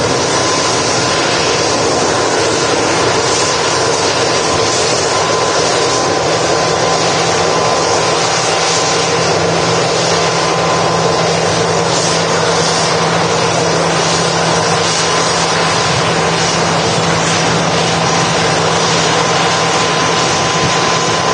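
An Etihad jet airliner at Manchester Airport thunders through its takeoff roll, a loud, steady broadband engine roar that holds for the whole stretch with no voices over it.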